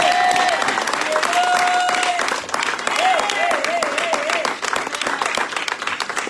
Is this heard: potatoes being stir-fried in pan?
no